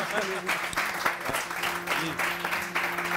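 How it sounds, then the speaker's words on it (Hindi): Studio audience applause on a Pakistani morning talk show, moderate clapping in pulsing bursts with a host's voice and background tones mixed in. "और इनके लिए बहुत सारी तालियां हैं"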